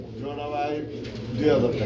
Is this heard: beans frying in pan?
no